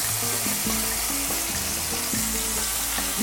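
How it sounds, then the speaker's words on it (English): Meat searing in a little olive oil in an electric skillet, a loud steady sizzle and crackle, close up and continuous with no voices. "We're going to sear it."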